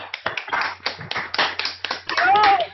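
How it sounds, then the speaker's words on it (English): Audience applause for a student award winner at a nuclear physics awards event, a run of ragged clapping bursts mixed with voices talking over it. "Another round of applause for KG, please"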